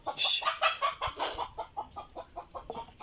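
A chicken clucking repeatedly nearby in a steady rhythm, starting with a few louder squawks.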